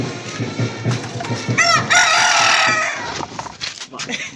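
A rooster crows loudly and close in one long cock-a-doodle-doo, with clucking and household noise around it on a home farm.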